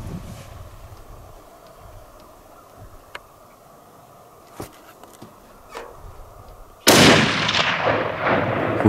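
A single hunting rifle shot on a South African safari cracks loudly and suddenly near the end, its blast decaying over a couple of seconds after a stretch of quiet outdoor ambience with faint ticks.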